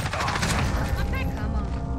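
Shotgun blasts from Call of Duty: Warzone gameplay, loud, dense and percussive over a steady rumble, with a voice talking over the firing.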